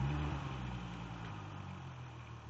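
A 2005 Volkswagen GTI VR6 mk4 fitted with a new cold air intake idles steadily. The low engine hum is moderately loud at first and eases slightly as it settles, with no voices.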